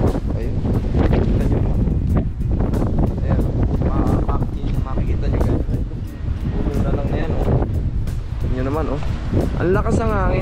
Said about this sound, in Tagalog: Ang lakas ng bugso ng hangin.